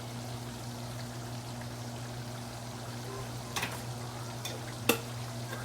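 Ginger garlic paste frying in a little oil for mutton biryani gives a steady low sizzle with a constant hum beneath it, broken by a few short bright scrapes of stirring near the end.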